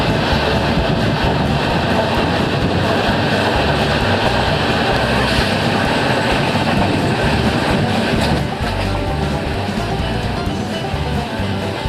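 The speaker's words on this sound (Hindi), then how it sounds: "दिल्ली मेट्रो और इस ट्रेन का एक बहुत ही सुंदर पैरेलल एक्शन देखने के लिए मिलता" Sapt Kranti Superfast Express running close alongside the Delhi Metro, a loud, continuous roar of rolling wheels with steady rhythmic clatter from the rail joints and a faint squeal toward the end.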